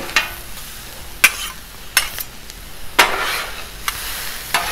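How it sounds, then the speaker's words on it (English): Hash browns and serrano pepper frying on a 36-inch Blackstone griddle, a loud continuous sizzle broken by several sharp spatula scrapes and taps spaced about a second apart. "Just added some more hash browns in here. Got a little serrano pepper we're gonna get on there,"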